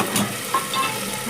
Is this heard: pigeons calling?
no